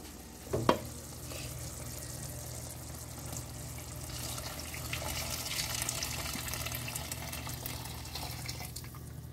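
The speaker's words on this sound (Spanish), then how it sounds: "Vamos a revolver muy bien." A pot of fish sancocho stew with potatoes being stirred as it begins to boil: a steady, soft wash of bubbling and sloshing, with one sharp utensil knock near the start.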